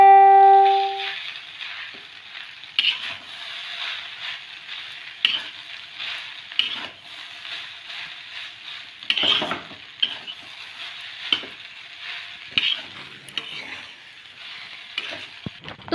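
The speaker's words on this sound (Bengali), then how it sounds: "এরপর সিমইটা সমস্ত সবজির সাথে ভালোভাবে মিশিয়ে নেওয়া হবে" Boiled vermicelli stirred together with vegetables in a hot pan, a steady close sizzle broken by repeated scraping and tapping strokes of a spoon against the pan every second or so.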